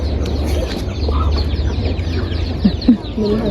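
A chicken meant for slaughter and boiling clucks twice in quick succession near the end, close by, over a steady low rumble of outdoor background noise.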